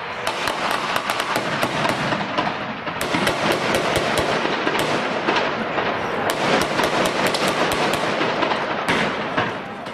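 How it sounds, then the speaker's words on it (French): Sustained automatic weapon fire rings out during a police assault on a shop, with rapid, loud cracking bursts repeating over a dense, continuous roar of shots and echoes. "L'assaut final est donné, longuement nourri à l'arme automatique."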